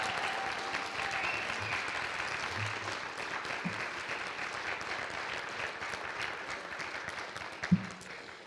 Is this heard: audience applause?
yes